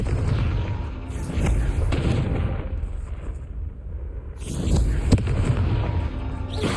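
Fire spell blasts in Hogwarts Legacy go off as deep, rumbling booms, one at the start and another around five seconds in, with crackling tails over a constant low background.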